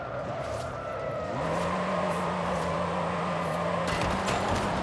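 A drift truck's tires skid and squeal continuously in Forza Horizon 5, a sustained screech over a revving engine, loud and close with no talk.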